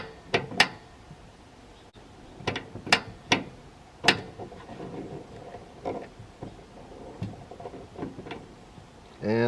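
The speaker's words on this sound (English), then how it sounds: "Push down on the knob slightly before turning it to the desired position." Gas control knob on a Buddy portable propane heater clicks and ratchets as it is pressed and turned, a series of sharp close mechanical clicks over quiet background.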